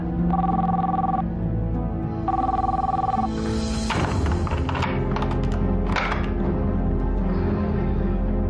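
Two electronic telephone rings at night, each about a second long with a gap between, followed by tapping and clattering handling sounds as the handset is picked up.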